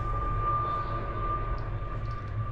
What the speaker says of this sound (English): There's a plane taking off. That is loud.